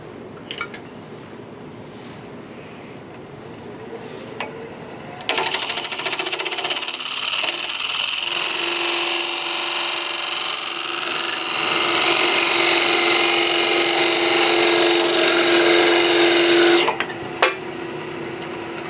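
A wooden piece turns on a lathe as a parting tool cuts it off a glue block, a loud steady scraping whine that runs for about twelve seconds and then stops abruptly, with quieter lathe hum before and after.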